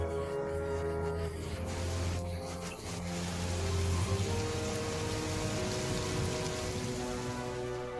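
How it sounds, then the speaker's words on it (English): Steady rain patters on a surface with a sustained low rumble beneath, like a storm carrying on without a break. "fighting their way through the wind and rain"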